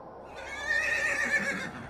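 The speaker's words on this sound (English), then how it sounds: "We can pet the horse." A horse in the video game The Seance of Blake Manor whinnies in a drawn-out, wavering neigh lasting over a second, fairly close and clear with no talking over it.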